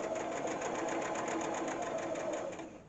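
A sewing machine stitches a five point star, a steady close mechanical whir with rapid needle clatter that slows and fades at the end.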